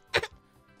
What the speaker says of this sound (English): I can cough for you again if you want.